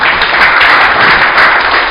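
A lecture audience bursts into loud, close, dense applause that holds steady throughout, many hands clapping at once with no break.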